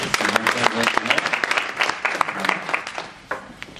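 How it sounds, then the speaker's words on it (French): An audience at a Paris conference applauds invited guests, a dense spread of handclaps throughout that is fairly loud and steady, with a voice or two breaking through briefly. "je vous demande surtout de les applaudir"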